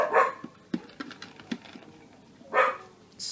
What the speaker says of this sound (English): That'll be the dogs going mental.